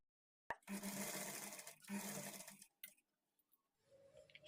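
A sewing machine stitches piping around a blouse neckline in two short whirring bursts with a brief pause between them, followed by quiet handling sounds.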